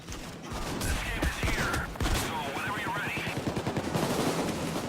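Gunfire in the Payday 2 video game: rapid bursts of shots crack out in quick succession against busy game noise, ending in a rattling string of automatic fire.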